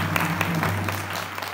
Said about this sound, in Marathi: महाराज गायकांसाठी टाळ्या वाजवा.